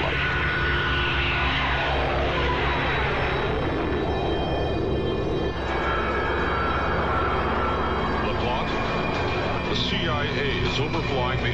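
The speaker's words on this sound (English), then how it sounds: "The U-2 took off on its first test flight." A Lockheed U-2 spy plane roars on takeoff for its first test flight, a loud, steady engine drone that swells and holds throughout, layered under narration and music.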